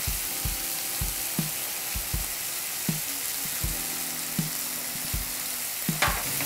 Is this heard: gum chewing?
no